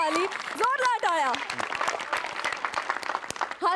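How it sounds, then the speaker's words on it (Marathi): An audience at a Marathi comedy show claps loudly while voices talk over it, the crisp hand strikes scattered and sharp beneath the speech. "जोरदार टाळ्या."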